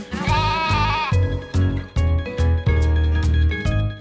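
Sheep being herded bleat loudly and close by, one long wavering cry followed by a series of shorter overlapping bleats in an uneven rhythm.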